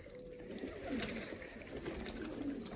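Pigeons coo softly inside their closed loft, low murmuring calls repeating against a steady background hiss, with no voices.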